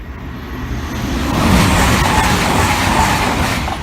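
A train rumbling past the Tallington level crossing, loud and close, with a heavy steady roar of wheels on rails building and holding throughout.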